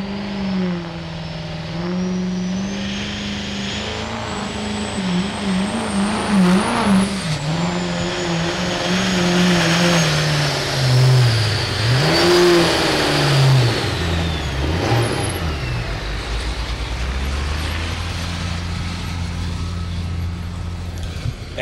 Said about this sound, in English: Let's see how this run goes for another Duramax in the field today.